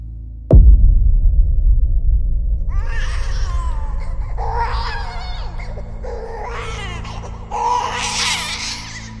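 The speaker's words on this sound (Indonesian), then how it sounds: "Jadi di rekaman itu tuh ada suara anak bayi yang bener-bener kayak banget baru lahir" A newborn baby cries in a recording, beginning with a sharp thump, then a steady low hum before shrill, wavering wails that come in repeated bursts and grow louder near the end.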